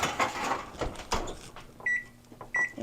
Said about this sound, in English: We're going to get this set into the oven so it can start baking.